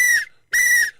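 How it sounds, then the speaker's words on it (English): Two sharp, shrill blasts from an alarm whistle, close and loud, each lasting about a quarter second and separated by a brief gap. "whistle to raise an alarm"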